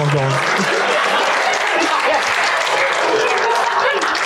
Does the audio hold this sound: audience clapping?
yes